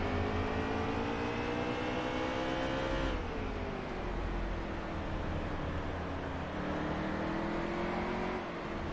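A NASCAR Cup race car engine drones in NASCAR Heat 3 at the Martinsville short track, a steady buzzing roar that dips as the car slows and then climbs back as the throttle opens again.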